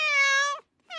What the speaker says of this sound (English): There's a little meow.